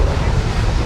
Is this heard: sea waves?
yes